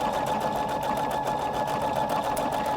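A Husqvarna Viking Designer Brilliance 80 sewing machine hums and chatters continuously at an even, close, moderately loud pace while sewing large decorative stitches, with no talking.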